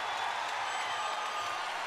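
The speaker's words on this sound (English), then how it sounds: "The crowd's loving the Team Quest fighter." An arena crowd at a mixed martial arts bout roars in a continuous, dense wash of cheering that holds at an even level throughout.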